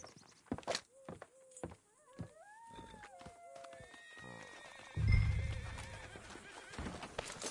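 A horse in Red Dead Redemption 2 whinnies in several rising and falling calls, followed by a deeper rumble of hooves clip-clopping along, all fairly close and clear.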